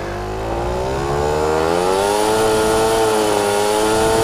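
A small scooter engine warms up, its buzzing note climbing steadily in pitch as the revs rise and then holding at a high, loud, continuous whine.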